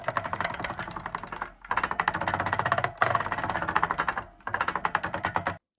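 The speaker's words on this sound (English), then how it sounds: "here's one of me just scraping my fingers across the keyboard on a key step" Fingers scraping rapidly across the keys of an Arturia KeyStep controller keyboard, dense rattling plastic clatter in three long sweeps separated by short pauses, close and fairly loud with no voices.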